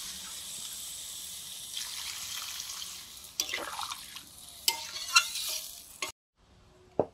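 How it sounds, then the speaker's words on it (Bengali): Water poured into a pan of potatoes and cauliflower, then stirred with a utensil, with faint sizzling and a few sharp scrapes and knocks against the pan, a brief near-silent pause and a final clink. "রাখা আলু আর ফুলকপি, পরিমাণ মতো জল দিয়ে দিলাম।"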